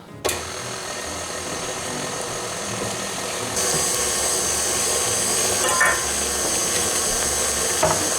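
An electric mixer beating chocolate cake batter gives off a steady, close whirring drone that shifts up to a slightly louder, brighter pitch partway through, with a few faint clinks over it.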